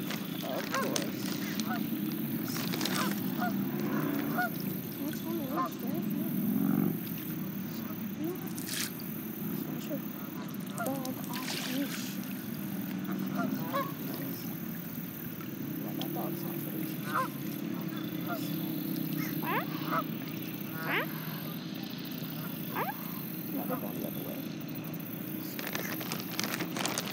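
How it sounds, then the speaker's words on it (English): A Pekin duck out in the open calls repeatedly with loud, honking quacks in irregular bursts, set against a steady background murmur while a person talks nearby. "it's just a Pekin duck quacking"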